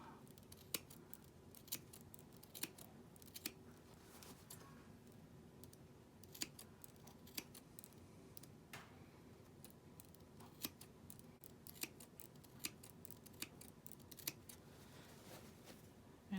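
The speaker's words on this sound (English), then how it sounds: "Just clip not all the way up to the seam, but just close to." Scissors snip repeatedly into the seam allowance around the curves of a quilted Christmas stocking, giving faint, close, irregular clicks spread across a quiet room with no talk.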